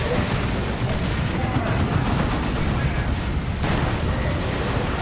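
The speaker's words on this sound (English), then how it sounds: "Another Manticore strike." Manticore artillery strike in the real-time strategy game Dawn of War 2, a dense, loud, continuous rumble of explosions and battlefield noise that fills the clip.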